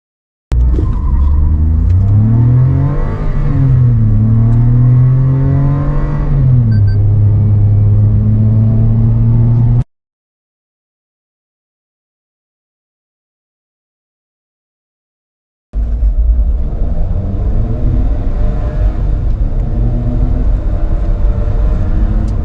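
A Maruti Fronx and a Hyundai Venue each run a 0-100 km/h acceleration test, one car with a 1.2-litre K series naturally aspirated engine. A loud, close engine revs hard through rising gear changes, then silence, then a second car's engine drones steadily.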